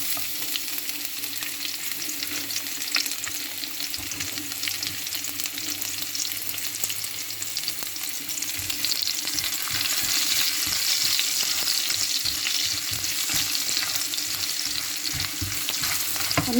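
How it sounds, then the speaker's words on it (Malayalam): Ginger, garlic and onion sizzle steadily in hot oil in a pan, a close, continuous crackling fry that grows a little louder partway through, with occasional stirring and no voices. "ഞാനിവിടെ കുറച്ച് ഇഞ്ചി വെളുത്തുള്ളിയും സവോള എടുത്തിട്ടുണ്ട്. അപ്പം നമുക്ക് അതൊന്ന് ഇതിലോട്ട് ഇട്ട് കൊടുക്കാം."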